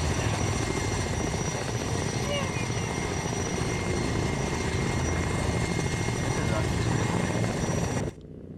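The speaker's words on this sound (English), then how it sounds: "the quality of this helicopter is insane" A helicopter in the Arma 3 video game flies close by, its rotor and engine a loud, continuous thrum that holds steady for eight seconds before dropping away near the end, with voices talking over it.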